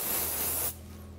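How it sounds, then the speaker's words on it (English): Firm hairspray sprayed onto the roots of a section of freshly blow-dried hair, a close, steady hissing burst of about two-thirds of a second that cuts off sharply into quiet. "spray a little firm hairspray onto the roots of the section"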